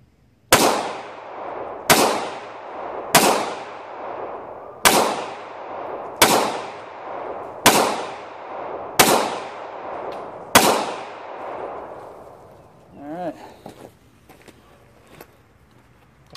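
Eight loud, sharp pistol shots from a concealed carry handgun fire at a steady pace about a second and a half apart, each ringing out with a short echo before a brief quieter clatter at the end.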